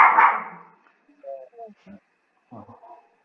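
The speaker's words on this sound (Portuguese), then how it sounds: "Minha cadelinha fazendo barulho." A small dog gives a few short, high yips and whimpers after a louder opening burst, with quiet gaps between.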